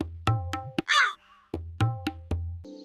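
A cartoon crow caws in a fox-and-crow fable animation, giving about six sharp, close caws in an uneven rhythm, with a brief rustling burst between them and a tonal chime at the end.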